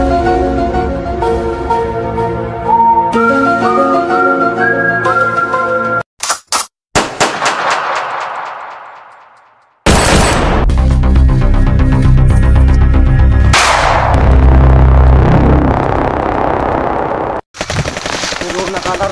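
Rapid bursts of video-game gunfire ring out loud and close, broken by brief gaps, a whooshing sweep and a sudden cutoff before the firing resumes over a dense, music-like background.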